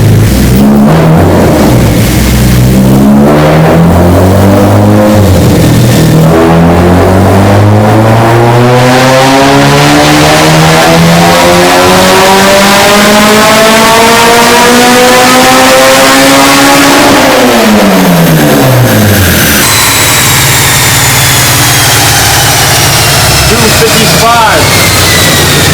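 A K-series Civic Si engine on a 260hp budget build screams through a full dyno pull, the pitch climbing steadily for about seventeen seconds to a peak before dropping off, very loud and close, with voices talking over it.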